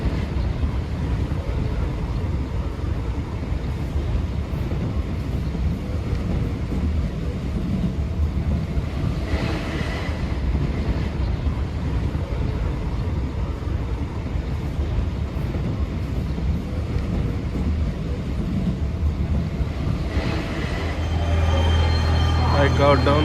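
Ride aboard an RER D commuter train in Paris at night: a steady low rumble of the carriage runs throughout, with occasional faint rattles and a brief squeal near the end, while a voice talks intermittently over it.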